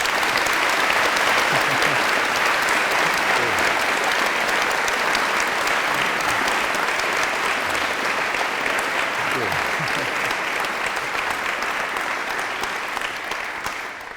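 An audience applauds to welcome Sir Peter Jackson and his interviewer at an Exeter College Oxford lecture event, a dense, sustained clapping from a full room that stays strong before easing slightly at the end.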